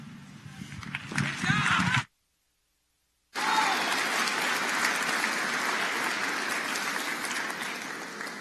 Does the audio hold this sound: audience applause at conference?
yes